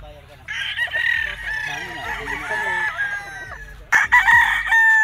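Gamefowl bull stags and cocks crow at a game farm, several loud close crows overlapping one after another, with clucking between them.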